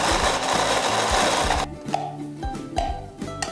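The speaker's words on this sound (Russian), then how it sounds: "Затем мы точно так же измельчаем курагу." An electric chopper grinds dried apricots in a home kitchen, a dense whirring roar for the first half that drops into a lower, uneven churning with intermittent knocks as the fruit breaks down.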